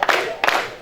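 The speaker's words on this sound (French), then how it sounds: "Applaudissons." An audience at an international youth day celebration gives two short bursts of applause and cheering, fairly close and lively.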